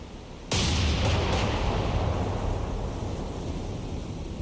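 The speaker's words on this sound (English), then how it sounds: "Ise now launching with her secondary battery as well." Naval guns of the Japanese battleship Ise firing her secondary battery in a naval combat game, a sudden loud blast followed by a couple of quick further reports and a long rumbling roar that slowly fades, no voices.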